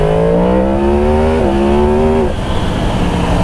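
A 2023 Yamaha MT-10 SP motorcycle engine drones loudly and steadily on a test ride, pitch climbing slightly, shifting once, then dropping away into wind rush.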